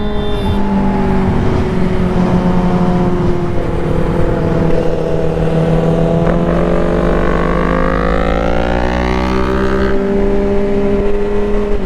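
A Yamaha R6 sport bike engine revving steadily and loudly throughout wheelie practice, its pitch climbing and holding with a brief shift dip midway, close and continuous with no talk.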